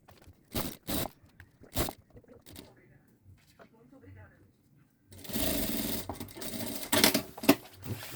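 A sewing machine stitches a synthetic backpack: short bursts of clattering stitching with pauses and handling noises, then a long continuous run near the end, close and fairly loud.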